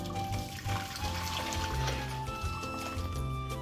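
Hot boiled water pours steadily into a bowl holding salt and sauce for stuffed peppers, a continuous close liquid splash and trickle over faint background hum.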